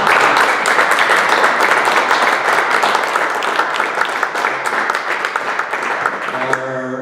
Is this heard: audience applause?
yes